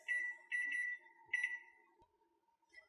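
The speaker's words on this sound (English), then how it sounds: "So my timer went off, so I'm just gonna check and see how we're doing." A kitchen timer goes off while chana dal simmers on the stove, sounding three short bursts of high electronic beeping with a fainter fourth at the end, quiet and alone over a low steady hum.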